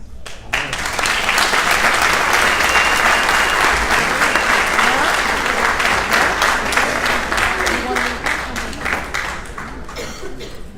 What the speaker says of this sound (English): How about another round of applause for Gedale Fenster?